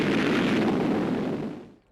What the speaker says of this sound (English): From rocky positions, enemy mortars shell our landing barges.